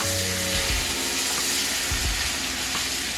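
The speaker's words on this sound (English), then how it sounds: "We're gonna throw in about 3 tablespoons of butter. We're gonna let that get all nice and frothy." About three tablespoons of butter melt and froth in a hot pan for ribeye steak, giving a loud continuous sizzle up close with a couple of low thumps from the pan.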